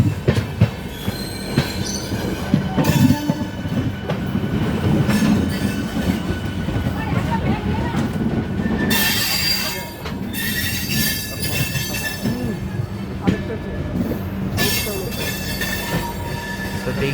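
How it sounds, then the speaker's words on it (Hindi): The Sarai Ghat Express, an Eastern Railway train of LHB coaches, departs Howrah Junction on a curve, with loud rumbling wheels, rail clatter and sharp wheel squeals throughout. "172 इयर्स ओल्ड वाला प्लेटफॉर्म हावड़ा जंक्शन को हम लोग डिपार्ट कर रहे हैं।"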